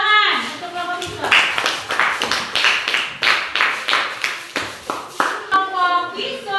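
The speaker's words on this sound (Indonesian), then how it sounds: "Tepuk tangan untuk kelompok visual" A class claps and cheers for a student group, quick overlapping clapping mixed with children's voices and shouts.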